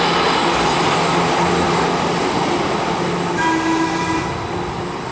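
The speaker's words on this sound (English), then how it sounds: "free little trolley rides whenever you want to jump on one" A trolley streetcar in Ybor City, Tampa gives a loud, steady rolling rumble with a continuous rail roar and a brief tonal squeal or whine toward the end, heard up close with no voices.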